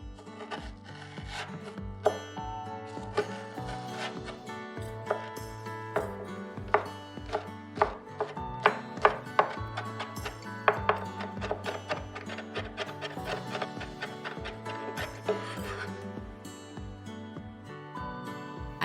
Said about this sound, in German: Den weißen Stiel der Lauchzwiebel fein hacken.